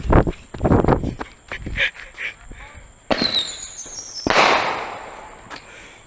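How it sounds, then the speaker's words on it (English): Fourth of July fireworks go off outdoors with several crackling pops and a whistling, fizzing burst, while people exclaim and talk nearby. "We got all the fireworks up there."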